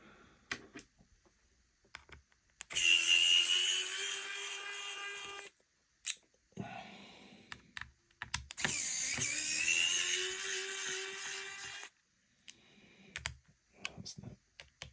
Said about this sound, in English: The electric screwdriver is certainly making this easier one-handed.